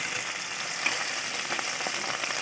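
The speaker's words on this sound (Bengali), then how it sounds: "হালকা করে ভেজে চিংড়ি মাছগুলো আমি তুলে নেব প্রথমে" Prawns frying lightly in hot oil for a pumpkin-prawn dish give off a steady, close hiss and sizzle with small crackles throughout, and no one speaks.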